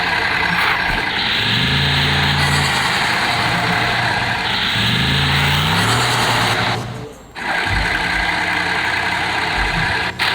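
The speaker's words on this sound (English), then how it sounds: "W16 engine, dude. Two VR6s singing at the same time." A Bugatti W16 engine in a racing video game sounds as a steady, loud mechanical drone with rising and falling tones, briefly dipping before resuming, with no talk over it.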